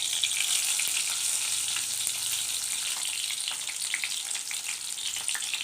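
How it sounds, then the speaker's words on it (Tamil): Onion-stuffed brinjals sauté in oil in a kadai with a constant, close hiss of frying and a faint scrape or two of stirring beneath. "நம்ம கடாயில் எண்ணெய் சேர்த்து நம்ம ரெடி பண்ணி வச்சுருக்க கத்திரிக்காயில் எண்ணெயிலே போட்டு வதக்கி எடுத்துக்கலாம்"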